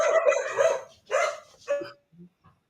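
A dog barks a few times in short bursts close by during an online football chat, with a couple of faint yips trailing off at the end.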